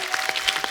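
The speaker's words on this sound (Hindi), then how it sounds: "जोरदार तालियां हो जाएं" Short burst of audience applause at a Hindi comedy show, a brief crackle of clapping hands without voices.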